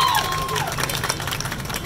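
An audience cheers and claps to welcome a guest at a prize draw event, a lively crowd roar with whoops and a few shouted voices mixed in.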